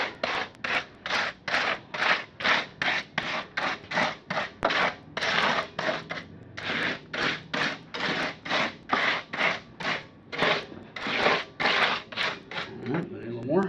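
A spatula spreads wet material about half an inch thick across a wine barrel fire table, giving rapid, regular scraping strokes up close that repeat steadily with brief gaps.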